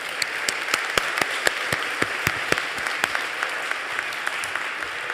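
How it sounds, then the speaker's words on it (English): Indoor audience applause at a university scholarships and awards day: many hands clapping in a steady, moderately loud wash, with a few sharper individual claps standing out throughout. "can we give him another round of applause,"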